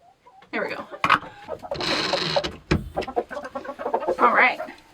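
Chickens in a backyard coop cluck and squawk in short, busy bursts close by, with a person talking among them and some rattling noises.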